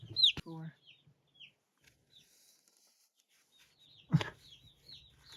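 Newly arrived baby chicks in a brooder give scattered thin high peeps, close and fairly faint, with a couple of louder clucking bursts and a voice talking softly in between.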